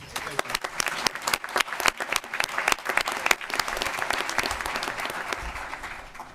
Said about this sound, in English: Let's give it a great applause for Marshall Green.